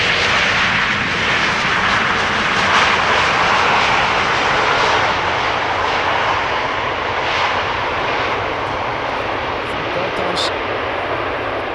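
A Qatar Airways jet airliner arriving at Amsterdam Schiphol Airport roars with a loud, continuous broadband engine rumble that fades slightly toward the end. A person talks over it.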